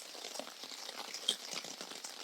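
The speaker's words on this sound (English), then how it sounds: "it is pouring now" Heavy rain pours onto a tarp stretched over a spring hiking campsite, a faint, dense patter of crackling drops with one slightly sharper tap partway through.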